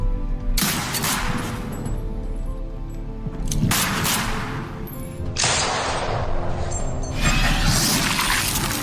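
Loud bursts of gunfire in a film scene, an old man firing at another man and missing, with heavy sharp blasts in several clusters over a dense, continuous roar.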